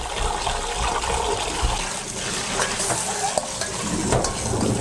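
Sea grapes are rinsed in water, making a continuous close splashing and swishing with small clinks from a bowl throughout.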